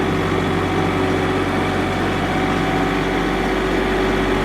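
A tractor engine runs steadily at close range, a continuous loud droning hum with no breaks.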